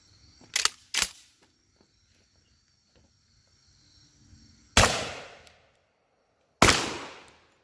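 A Tristar Raptor ATAC semi-auto 12 gauge shotgun fires buckshot outdoors: two quick sharp blasts in close succession, a pause, then two more loud reports spaced apart, each with a short decaying echo.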